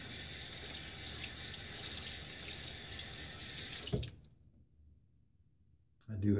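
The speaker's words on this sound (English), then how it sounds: "Just rinse it off." Tap water runs steadily while a safety razor is rinsed at a tub, a close, continuous hiss that stops abruptly partway through, leaving near silence before a brief clatter at the end.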